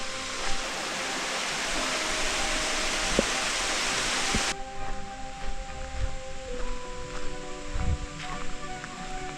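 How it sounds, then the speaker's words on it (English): A small waterfall next to a tunnel at Oconee State Park, South Carolina, gives off a loud, steady rushing hiss that abruptly turns thinner and quieter partway, with faint thumps and hum beneath. "There's a nice mini waterfall next to the tunnel."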